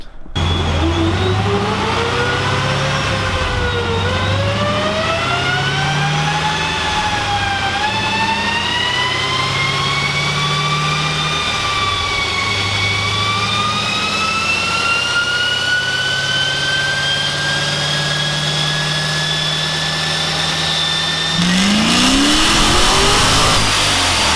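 A C6 Corvette on a dyno during a tuning pull, its engine climbing steadily in pitch through a long wide-open run before the revs drop off sharply near the end, loud and close with no talking.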